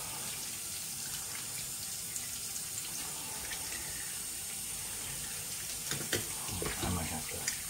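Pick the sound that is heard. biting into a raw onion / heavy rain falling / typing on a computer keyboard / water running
water running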